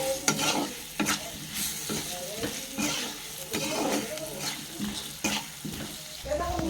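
Potatoes with tomato sizzle in a hot pan as a spoon stirs them, scraping and clacking in an irregular rhythm over the steady frying, close and fairly loud.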